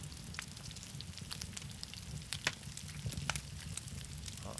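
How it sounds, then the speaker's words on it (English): Meat sizzles in a cooking pot in the survival game SCUM, a steady crackling hiss with scattered pops and snaps and no talk over it. "you'll hear the difference in the sizzle"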